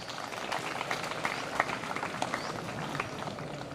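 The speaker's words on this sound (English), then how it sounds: "Let us give a round of applause." Moderately faint applause from an audience at a polytechnic college day celebration, steady crowded clapping with a few sharper claps standing out, continuous for several seconds.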